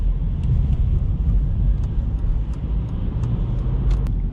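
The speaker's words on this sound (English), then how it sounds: "Clutch in, I'm coasting, clear, blip of gas, clutch out." A car engine idles and rumbles in a low, steady drone during a manual clutch release with a quick blip of gas, heard from inside the vehicle with faint ticks over the hum.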